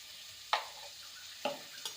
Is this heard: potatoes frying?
yes